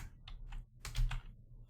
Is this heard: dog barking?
no